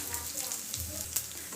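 Lentils and spices including fenugreek, cardamom, cinnamon, cloves, cumin and pepper sizzle in a pan while roasting for bisibele bath powder, a soft continuous crackle with occasional stirring scrapes, close and fairly quiet.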